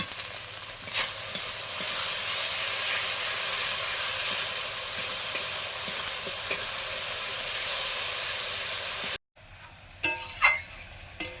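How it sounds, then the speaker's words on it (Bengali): Ginger garlic paste fries in hot oil with a steady, close hiss and sizzle and occasional stirring taps, then cuts off abruptly near the end, followed by a few sharper clatters and splutters. "এবারে দিচ্ছি আদা রসুন বাটা"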